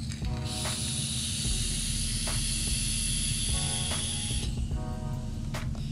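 A steady airy hiss runs for about four seconds as a direct-lung draw is pulled through a Wismec Active vape fitted with a 0.2 ohm coil head at 50 watts, airflow wide open. A low rumble continues underneath.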